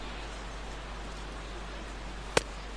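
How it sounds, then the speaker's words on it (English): Rain falling on a gloomy day in the baseball game MLB The Show 17, a steady soft hiss throughout with one brief sharp click near the end. "Rain still coming down."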